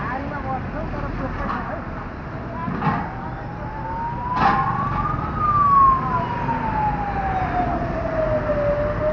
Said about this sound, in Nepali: एम्बुलेन्स हो एम्बुलेन्स हो